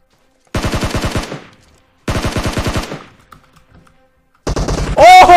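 Automatic gunfire in the mobile game PUBG Mobile comes in three loud, close, rapid bursts of evenly spaced shots, separated by short quiet gaps, with a brief electronic game sound at the very end.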